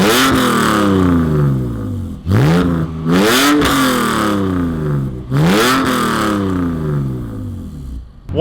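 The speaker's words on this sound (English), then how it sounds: "it has a muffler delete and catless headers" A BMW E46 330i with the M54 engine, muffler delete and catless headers revs up three times, a loud raspy exhaust that climbs in pitch and falls away between pulls, close by.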